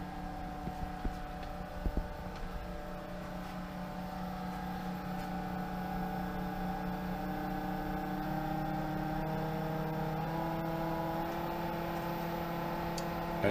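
A Pentair SuperFlo variable speed pool pump runs at about 2000 RPM on dual suction lines, humming steadily with a faint tonal whine that builds slightly, heard alone at low level.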